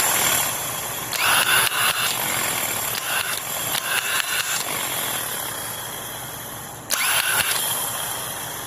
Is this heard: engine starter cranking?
yes